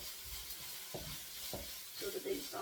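Ginger beef pieces sizzle steadily in a frying pan while a utensil pushes them around, giving a few scraping strokes over the continuous hiss of the frying.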